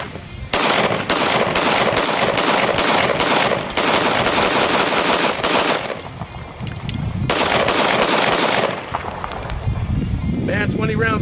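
A Ruger 57 pistol in 5.7 mm empties a full 20-round magazine outdoors in the desert, loud sharp shots in fast bursts with brief pauses, close to the listener, with a voice at the very end.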